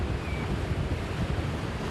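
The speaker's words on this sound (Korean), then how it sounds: "파도가 심상치 않습니다." Rough sea waves and gusting wind batter a fishing boat heading home through a typhoon, a steady, loud roar of surf and buffeting air with no voices.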